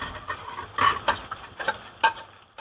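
Garlic frying in a pan with curry leaves for a lemon and banana pickle, a steady soft sizzle broken by several stirring scrapes and clinks of a spoon, close and moderately loud, with no talking.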